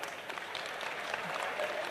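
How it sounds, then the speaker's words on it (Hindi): A large crowd at a religious gathering for daughters' weddings claps loudly and continuously, a dense, even patter of many hands with faint voices underneath. "बिटिया जोरदार ताली बजाओ।"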